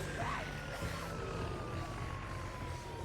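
Wailing sirens in the video game Project Zomboid, a steady siren tone sliding slowly downward over a dense rumbling background, continuous and moderately loud.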